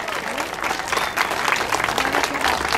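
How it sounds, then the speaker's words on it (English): A crowd claps in a dense, steady burst of applause at a city hall grand opening ribbon cutting, carrying on throughout, fairly loud and close. "Let's give them a big round of applause."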